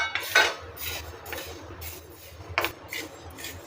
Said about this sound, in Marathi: आता आपल्याला हे मूग आहेत ना हे भाजून घ्यायचे।